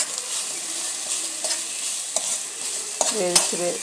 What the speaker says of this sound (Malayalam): ചതച്ച് വെച്ച തേങ്ങ ഇട്ടിട്ട് നല്ല വഴറ്റിയതിന് ശേഷം